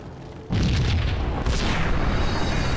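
Rigged explosives blow up a building in the Max Payne video game, a sudden loud boom followed by a sustained roaring rumble of debris and a second surge of blast noise.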